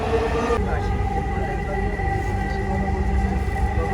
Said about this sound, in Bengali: তো ভিউয়ার্স মেট্রো রেলে উঠে গেছি।